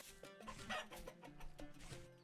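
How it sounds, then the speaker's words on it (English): Chicken clucking in the survival game Vintage Story, a few short clucks heard under busy game music and ambient sounds, moderately loud over a steady background. "Oh, I heard a chicken."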